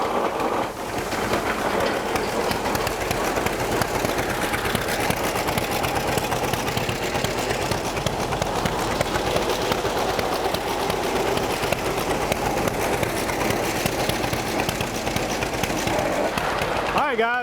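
A J. A. Vance planer/matcher runs with its top and bottom cutter heads spinning, giving a steady, dense broadband whir and rumble that holds constant throughout with no breaks.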